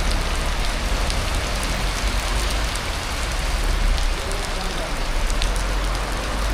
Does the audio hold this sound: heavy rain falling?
yes